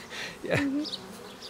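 A mass of roughly 3000 honeybees hums in a hive, a close, steady buzz under a voice that briefly speaks over it.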